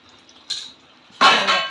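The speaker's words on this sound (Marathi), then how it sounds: "आपण झाकण ठेवणार आहोत." A metal lid is set onto a pot of cauliflower curry on the stove, a short ringing clink followed by a louder scraping clatter as it settles, close and alone.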